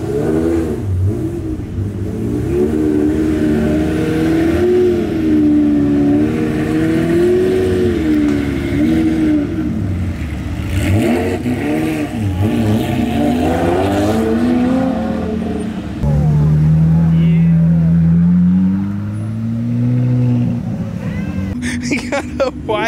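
A wide-body Kia Soul with a roll cage revs its engine in a street setting, the loud droning note rising and falling through the whole stretch, with people talking over it.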